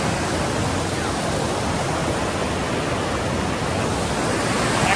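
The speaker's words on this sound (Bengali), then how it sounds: "দেখুন গাইস, আপনারা দেখুন এই জলের স্রোতটা" Rushing stream of water near Devkund waterfall, a dense, steady roar of flowing water filling the whole clip at close range with no breaks.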